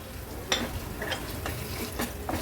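Finely chopped prawns are stirred into onion and tomato in a pan. A faint sizzle runs underneath a series of soft, evenly spaced spoon scrapes, and the stirring sounds close.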